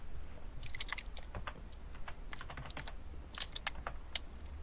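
Keys clatter on a computer keyboard as a command is typed into Minecraft, a quick irregular run of close, crisp clicks over a low steady hum, with no talking.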